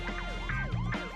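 A police car siren from The Simpsons Hit & Run video game wails in a fast repeating up-and-down sweep, steady and prominent over engine rumble.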